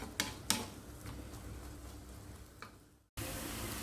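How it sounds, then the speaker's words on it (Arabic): Onion being stirred and fried in a pan, a steady close sizzle with a few sharp spatula scrapes and a brief dropout before the frying resumes louder. "غنبقى نحرك في البصله ديالي حتى كتشحر"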